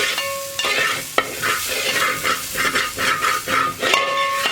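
Rice stirred and roasted in ghee in an uruli makes a close, loud sizzle with rhythmic scraping strokes of a spoon across the vessel, several pulses in a row, plus a couple of sharp metallic clinks.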